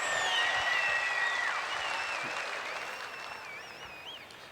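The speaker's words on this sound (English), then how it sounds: "A big cheer for the Aussies." Crowd at the Sydney Royal woodchopping and sawing competition applauding and cheering the Australian team after an international relay race, with loud, dense clapping that slowly fades, joined by a few whistles.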